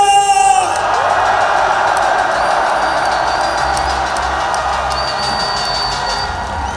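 At a political rally in Gwangju, a crowd roars with sustained cheering and applause after a brief raised shout at the start, the broad wash of noise holding steady with scattered whoops.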